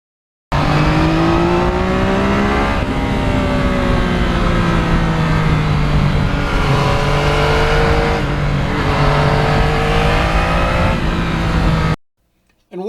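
A 2020 Yamaha MT-09 three-cylinder motorcycle engine runs loud and close for about eleven seconds, its pitch climbing and falling through repeated rev sweeps before cutting off abruptly.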